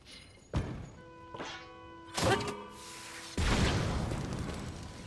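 A cannon in Tears of the Kingdom fires a few heavy booming thuds spaced a second or so apart, the last blast trailing into a sustained rumble, with no talk.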